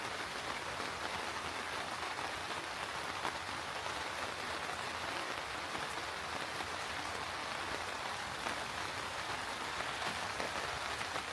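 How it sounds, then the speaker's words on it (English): Steady autumn rain falls over a New Zealand garden in an even, unbroken hiss of drops with no voices. "with the sound effects of the rain in the background"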